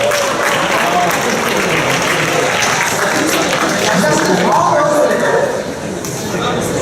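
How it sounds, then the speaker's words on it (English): An audience bursts into a dense, loud round of applause that holds steady for several seconds before easing slightly near the end, with some voices mixed in. "By round of applause."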